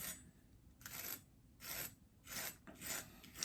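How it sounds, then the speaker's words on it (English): A Scotch-Brite pad is drawn lightly over a CTS-BD1N steel knife edge to remove the burr, giving four soft rasping strokes in a slow even rhythm, close and faint. "I'm actually going to use this Scotch-Brite pad and just lightly draw it over, kind of feather off and deform that burr"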